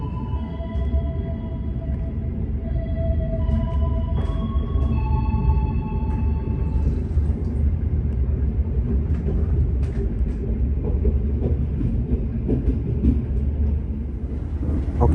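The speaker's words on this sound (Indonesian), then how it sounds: "kereta api Argo Muria diberangkatkan kembali dari stasiun Tegal" An Argo Muria passenger train pulls away from Tegal station: a steady, loud low rumble of wheels and carriages rolls on throughout, with brief higher horn or signal tones in the opening seconds.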